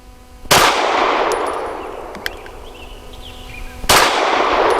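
Two loud, close gunshots from a Walther PDP 5-inch Compact pistol firing 115 grain Federal rounds outdoors, several seconds apart, each a sharp crack followed by a long decaying echo, with a faint metallic ping between them.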